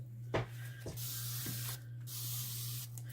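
Several long hissing sprays of alcohol from a spray bottle onto resin, one after another with short pauses, close and fairly loud.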